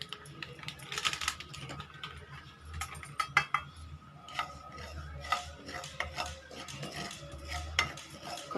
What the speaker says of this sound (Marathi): आता आपण खसखस भाजणार आहोत।